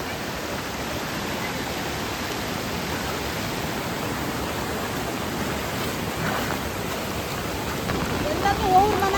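Heavy monsoon rain falls on a flooded Konkan village in Sindhudurg as a dense, even hiss that holds steady throughout, with faint distant voices barely rising above it.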